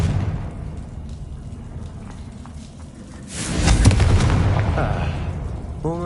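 A Confringo blast spell goes off in a Harry Potter-style video game, a sudden loud burst around the midpoint that swells into a sustained roar and crackle over low rumbling game ambience.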